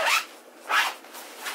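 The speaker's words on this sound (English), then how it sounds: "it zips up really nicely" A zipper closing on a small suitcase packing organizer, with three quick close zipping strokes at even intervals, the last one softer.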